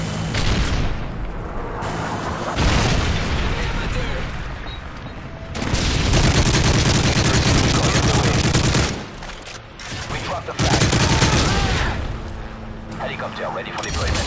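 Explosions and rapid gunfire from a Call of Duty-style multiplayer clan match with a Predator missile strike: loud sustained bursts of shooting and booming blasts in waves, separated by brief quieter lulls, with game announcer voice lines mixed in.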